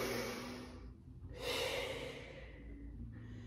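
Deep, slow breathing in a Pilates child's pose: one long audible inhale, a pause, then a drawn-out exhale, soft and close with no talking.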